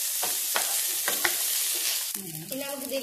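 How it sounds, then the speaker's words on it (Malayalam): Soaked rice frying in ghee and the oil left from sautéed onions for a quail biryani, a loud steady sizzle with a few stirring scrapes near the pan. "നമ്മൾ ഉള്ളി വഴറ്റി അതേ എണ്ണയിലേക്കാണ് നമ്മളിത് കൊടുക്കുന്നത്"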